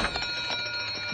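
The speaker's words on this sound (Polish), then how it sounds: "To alarm pożarowy!" A fire alarm rings continuously in a school building, a steady electronic tone with a fast pulsing rattle, fairly loud and unbroken for about a second with no talking.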